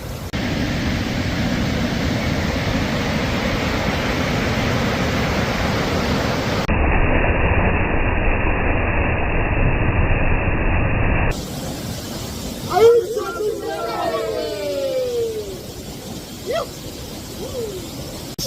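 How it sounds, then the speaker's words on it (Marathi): A private waterfall in Dapoli, in the Konkan region, roars as a loud, steady rush of falling water close by. The roar then gives way to a quieter stretch. "अर्ध्या तासाचा ट्रेक केल्यानंतर आपण आता सारी जगदाळे यांच्या प्रायव्हेट धबधब्याला आपण पोहोचलेलो आहोत."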